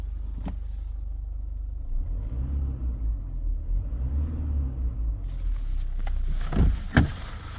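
An Ingenium car engine cranks and turns over, settling into a low steady idle rumble, with a few clicks and clunks near the end.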